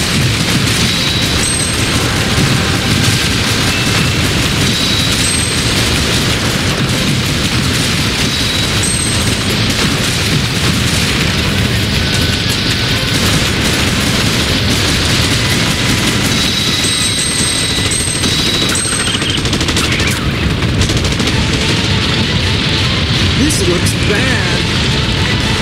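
Dense, continuous gunfire and rock explosions roar nonstop in the Haunted Museum arcade shooting game, loud and cluttered with crashing bursts and rumbling, with voices talking underneath.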